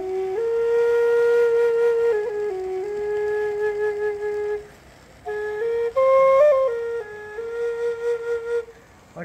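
A Native American flute assembled from a Blue Bear Flutes kit plays a breathy, clear melody of sustained held notes with a few pitch steps and short pauses between phrases, close and alone.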